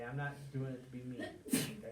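In a classroom, a single sharp sneeze bursts out near the end, right after a teacher speaks a short sentence.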